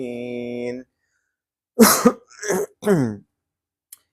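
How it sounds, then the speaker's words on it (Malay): A steady tone fades out, then after a short silence someone coughs several times in quick, rough bursts, close and loud. "minta maaf batuk-batuk sikit petang ni."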